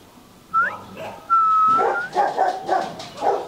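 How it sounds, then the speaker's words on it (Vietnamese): Fluffy white Bac Ha dogs, a Hmong breed, yip, whimper and bark in a short burst of close, high-pitched calls, with a whistle-like tone at the start. "Một giống Mông Cọc và đây là giống Bắc Hà. Bắc Hà Sù."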